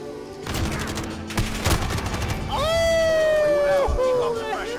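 Gunfire in a 2v2 gunfight match of the video game Call of Duty Modern Warfare: a rapid burst of loud close shots, then a rising whine as a voice talks over the action.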